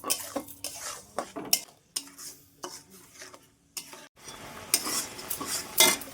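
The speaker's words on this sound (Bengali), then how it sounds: "অবশ্যই নেড়ে চেড়ে দেবো কোনোভাবেই যেন কড়াইয়ের তলায় লেগে না যায়" A spatula stirs and scrapes milk around a metal wok in repeated uneven strokes, close by, with a faint sizzle underneath and no talking.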